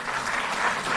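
Audience in a hall applauding loudly at a Delhi sports policy event, a brief, even wash of many hands clapping.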